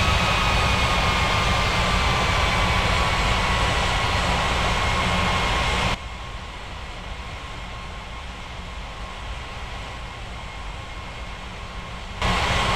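Steady jet engine roar from an aircraft taxiing on the ground at Rocky Mountains Regional International Airport, a continuous broad rumble with a faint whine, dropping to a lower level partway through and then swelling again near the end.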